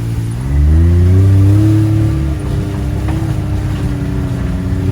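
An off-road vehicle's engine revs up and then holds a steady, loud drone as it drives along Trail 51, close and continuous throughout.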